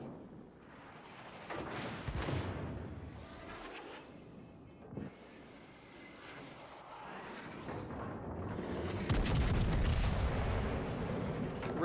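Battleship rear turrets firing in the naval combat game World of Warships Legends: heavy, booming gun blasts with long rumbling decay under a constant droning game soundscape, the loudest roar swelling near the end.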